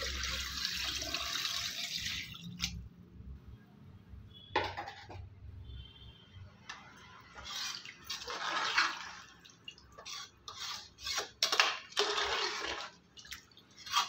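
Water poured from a glass into a pot of rice for chicken biryani, splashing and trickling in bursts with clinks of metal cookware between pours.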